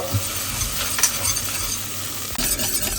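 Béchamel sauce with added milk over a white roux is stirred in a pan, giving a steady close sizzle with scraping stir strokes, one louder scrape near the end.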